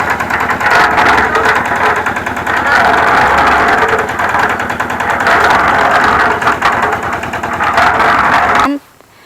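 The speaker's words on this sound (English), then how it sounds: "they are going to mix some concrete in here with the use of the cement mixer" A cement mixer runs while mixing concrete at a house construction site, a loud, steady mechanical churning drone close by that continues until it cuts off abruptly near the end, with voices faintly in the background.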